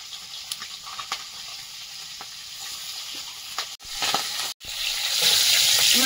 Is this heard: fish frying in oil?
yes